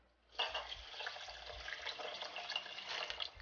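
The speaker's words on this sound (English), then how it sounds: "2 cups of rice, so I'll add 2 cups of water." Water pours steadily into a pot of rice being cooked for okra stew, a continuous close splashing rush lasting a few seconds with no talking.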